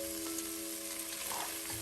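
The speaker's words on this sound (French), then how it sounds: "Donc là je vais retourner délicatement, légèrement. Je vais retourner mon poisson." Salted smoked fish frying in a pan with onions, giving a continuous soft sizzle with light scraping as it is turned over, heard close and fairly quiet.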